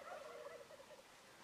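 A wild Nebraska turkey gobbles from its roost in a clump of trees, a rapid warbling gobble heard once at moderate distance over quiet open air, with no talk.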